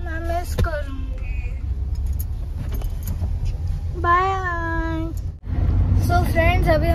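A car ride to Bangalore airport, with a low steady engine and road rumble beneath people chatting inside the vehicle and a brief dip near the end.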